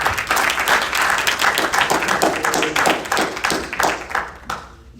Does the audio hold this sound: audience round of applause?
yes